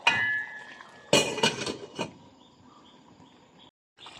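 A cooking pot of humba being covered with its lid: a few close metallic clanks and clinks of lid against pot, followed by a quiet ringing tail and soft kitchen ambience.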